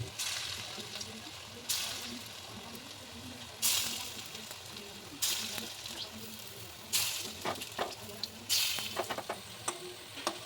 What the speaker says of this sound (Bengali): একই রকমভাবে সমস্ত পটলের বড়াগুলোকে আমি এইভাবে ভেজে নিচ্ছি